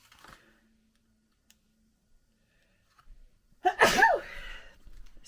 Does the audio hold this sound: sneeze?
yes